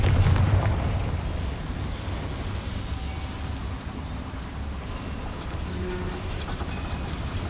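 In the video game Hogwarts Legacy, a Confringo fire spell bursts with a heavy, booming blast at the start, then fades into a long, broad rumble.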